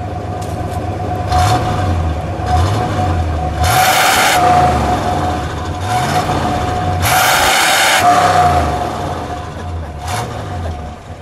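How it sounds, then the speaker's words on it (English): A 1961 Pontiac Ventura's 389 Tri Power engine revs up and down several times in a repeating cycle, loud and close, its deep exhaust rumble rising and falling with each rev. "Let's let you listen to this exhaust note. Roger, give it a rev, please."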